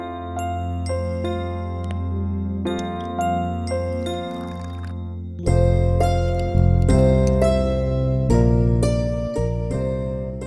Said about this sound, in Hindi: रोज सुबह घंटी की आवाज और इसकी बड़बड़ सुननी पड़ती है मुझे।